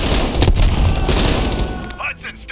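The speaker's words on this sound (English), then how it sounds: "Heavy MG on the ridge." Heavy machine gun fire sweeps a ridge in the Black Ops Cold War campaign, a dense, continuous roar of overlapping shots with a voice heard briefly in the mix.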